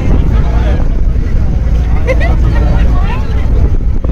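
A boat crossing the sea toward Bet Dwarka island, its engine and wind producing a loud, steady low rumble throughout, with faint voices murmuring beneath the noise.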